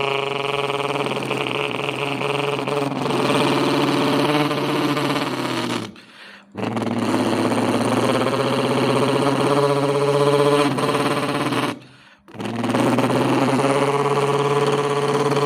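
A voice imitates a truck engine, holding loud sustained droning revs in three long bursts separated by two short breaths, with the pitch wavering like an engine under load.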